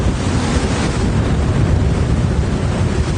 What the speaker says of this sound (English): Oh, it's getting windy now.